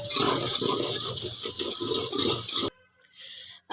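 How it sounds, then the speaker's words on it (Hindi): Yakhni broth pours steadily into nihari masala in a pot, a loud close gush of liquid that stops abruptly, followed by a faint trickle. "जो हमने यखनी तैयार की है वो मैं इसमें डाल देती हूँ"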